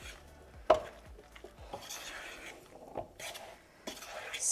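A spoon working a sticky fritter batter of peas, feta, mint and flour in a bowl, giving soft scraping and dull knocks against the sides, with a few sharper taps, quiet and close.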